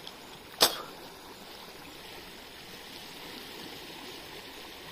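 Water rushing strongly through a check dam, a steady broadband outdoor wash held at an even level throughout, broken early by one brief sharp click.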